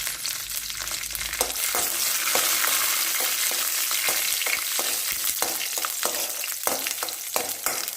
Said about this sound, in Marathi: शेंगदाणे छानपैकी परतून घ्यायचे.